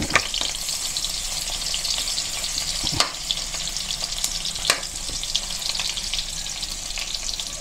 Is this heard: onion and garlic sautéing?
yes